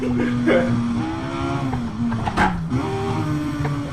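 Race car engine in the Assetto Corsa racing game revving and accelerating, a droning tone that climbs and drops with gear changes, with a loud scuffing burst midway and a voice talking faintly over it.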